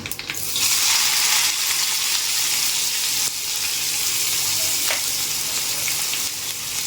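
Cumin and mustard seeds fry in hot oil with a loud, continuous sizzle that hisses steadily and close up for several seconds, with a brief clatter at the start.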